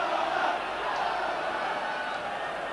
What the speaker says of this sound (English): a very big crowd here at Central Park